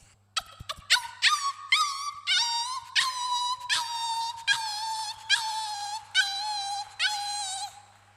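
A performer vocally imitates a street dog at a college arts inauguration, giving a series of about ten whining, yelping howls, each rising then falling, close and loud over a quiet room with a low steady hum.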